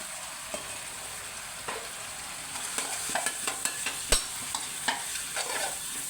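Squid and holy basil leaves stir-fry over high heat in a wok, a continuous loud sizzle punctuated by repeated sharp spatula clacks and scrapes that grow busier toward the end.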